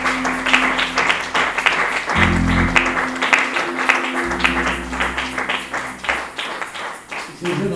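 A church congregation applauds and acclaims the Lord, with dense, loud clapping running throughout, backed by a sustained low musical tone and cheering voices.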